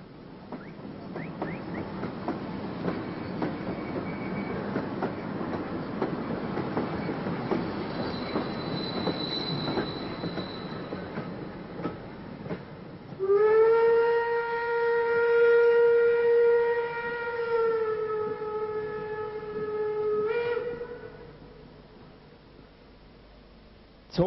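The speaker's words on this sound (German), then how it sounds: "Der Zug da. Und darum laden wir sie zum Schluss noch auf eine kleine Fahrt ein." A small ride-on train on a children's playground rolls along with a steady rumble and clatter, then a long, loud multi-tone whistle blows for several seconds before cutting off; no talking.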